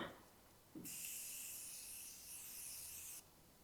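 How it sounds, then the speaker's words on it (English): A long, steady hiss of setting spray misted onto a face during makeup, lasting a little over two seconds, close and fairly loud, starting and stopping abruptly in an otherwise quiet room. "I'm going to spray, so like, shut your mouth."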